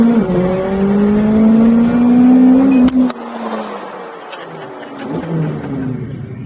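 A McLaren 720S supercar engine fires up and revs, a loud steady drone rising briefly before dropping back to a lower idle.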